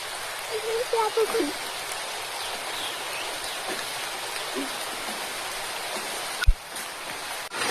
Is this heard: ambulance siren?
no